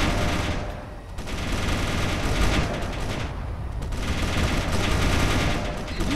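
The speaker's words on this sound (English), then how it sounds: "Ah, guns are firing." In the video game Space Engineers, guns fire in sustained, rapid bursts, a loud, dense automatic rattle that pauses briefly and resumes, continuing throughout.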